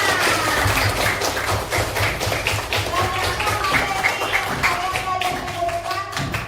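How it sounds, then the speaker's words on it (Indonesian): A Grade 5 classroom full of people clapping in a fast, dense patter, steady and close, with children's voices mixed in underneath. "Tepuk tangan."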